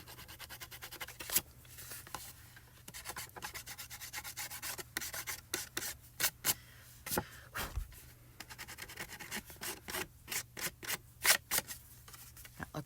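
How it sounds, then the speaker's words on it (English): A Mono Sand Eraser lightly rubbing foil off cardstock, making close, dry scratchy strokes in a long series of short bursts, some quicker and stronger than others, over a faint steady hum. "you're going to take your Mono Sand Eraser, and you're just going to go in and just lightly"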